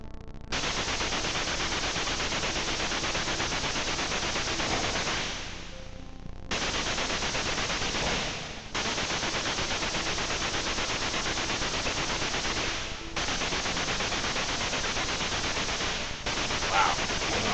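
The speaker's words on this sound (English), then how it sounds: "Nice thing is that the ammunition never runs out on this gun." Machine gun fire from the Beach Head video game rattles in long, loud, unbroken bursts, separated by brief pauses.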